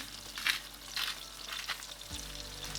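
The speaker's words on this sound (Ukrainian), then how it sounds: "Чуєте, як смачно створчить на пательні помідорні пластинки, віддаючи олії свій сік" Soft sizzling and crackling of tomato slices frying in oil in a pan, releasing their juice, with gentle bursts of spattering oil, close and fairly quiet.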